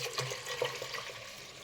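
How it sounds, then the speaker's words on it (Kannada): Water is poured into a cooker for bisi bele bath, a brief soft splashing pour of liquid, faint and alone. "7 ಲೋಟ ನೀರು ಹಾಕಿಕೊಳ್ಳಿ."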